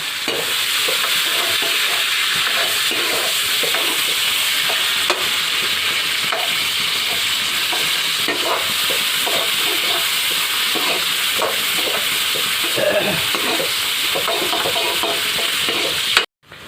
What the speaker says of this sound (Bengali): পেঁয়াজটা হালকা করে ভেজে নিচ্ছে